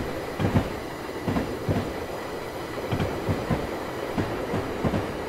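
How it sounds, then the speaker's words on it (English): A long train rolling past in the Train Simulator 2015 video game, a steady rumble with evenly spaced clickety-clack wheel beats over rail joints, loud and close. "here comes the end of the train."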